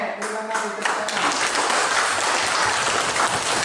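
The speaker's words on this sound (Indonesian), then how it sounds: "Oke, terima kasih tepuk tangan." Students in a vocational high school classroom applaud together, a dense, steady burst of clapping that fills the room for a few seconds, with some voices mixed in.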